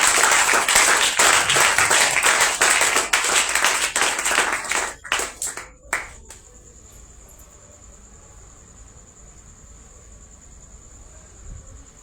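A church congregation claps in rhythmic unison to acclaim the Lord, loud, sharp and even for several seconds before stopping in a few scattered claps, then a quiet room with a faint steady tone.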